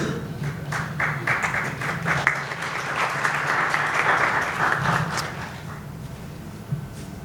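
Audience clapping at a gathering, a steady wash of many hands applauding at moderate volume with scattered sharper claps, holding for several seconds before easing slightly.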